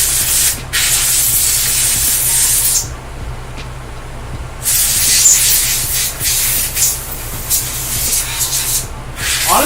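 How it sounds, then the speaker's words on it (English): Compressed air dusts out the inside of an old desktop PC in loud, close hissing blasts, with a short burst, a longer spray, a pause, then a long continuous spray. "We're going to give it one more quick dusting."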